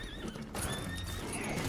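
A horse in a video game gives a loud whinny with hoof clip-clops mixed in, close up, with no voices.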